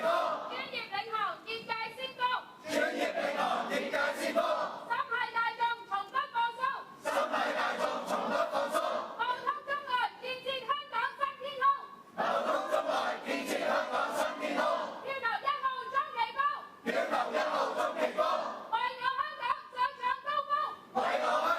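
A supporters' cheering team shouts and chants for candidate number 1 at a Hong Kong Legislative Council election forum for the import and export sector, with loud, energetic group voices rising in repeated bursts for about twenty seconds.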